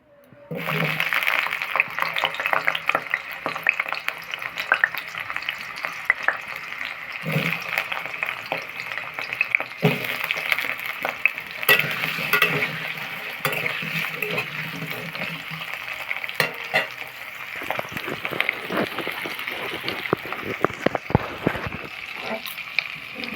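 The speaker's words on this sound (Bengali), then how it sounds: "আলুগুলো লাল করে ভেজে নেব একটু নুন দিয়ে চলুন আলুগুলো ভেজে নিই" Potatoes frying in hot oil seasoned with asafoetida for a vegetarian dish, a steady broad sizzle running throughout with occasional scraping and stirring knocks, close and fairly loud, no talking.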